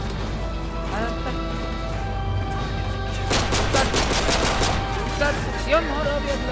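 Bursts of gunfire in the video game Modern Warfare 3, including pistol shots, with a dense rapid volley in the middle and scattered shots after, under a player's excited talk.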